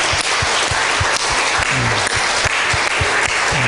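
A church congregation gives loud, sustained applause for students and worship leaders, a thick wash of clapping with regular low thumps pulsing underneath, filling the room with no speech on top.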